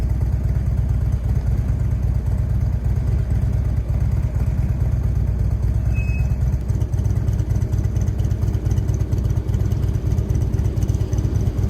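Harley motorcycle engine idling steadily for the whole stretch, a constant low rumbling throb with a slight mechanical clatter, close and unbroken, with no talking.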